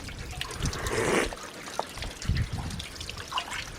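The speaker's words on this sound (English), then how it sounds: "this is a private well, and as you can see there's water coming through there" Fresh spring water from a private well trickles and drips through rock in a forest, with soft irregular splashes and gurgles, fairly quiet and close.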